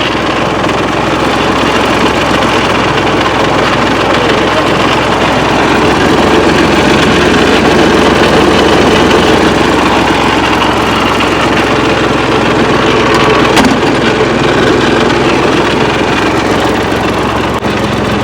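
A tractor engine runs continuously and loudly at close range while spraying guava trees on a farm. It holds a steady, rumbling drone with no pause or change in pace.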